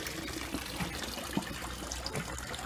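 Water splashing and trickling into a garden fish pond, a steady, close babble of running water with small irregular splashes, no voices.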